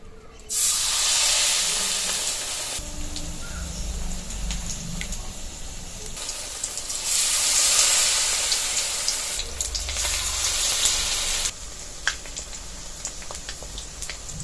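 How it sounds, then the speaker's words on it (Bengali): Loud, steady sizzling and hissing of jute leaf fritters frying in hot oil in a wok, swelling and easing in waves over a long stretch. "এখন আমি বড়াগুলো ভেজে নেব"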